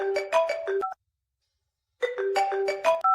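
A mobile phone ringtone plays a bright melodic tune in two bursts of about a second each, with a short silence between them, heard clearly and alone indoors at home.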